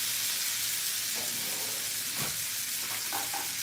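Lobster tails sizzling in butter, lemon and white wine as they are basted, a dense continuous sizzle and crackle at close range with occasional soft spoon strokes, no voices.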